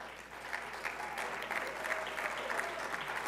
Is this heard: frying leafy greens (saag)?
no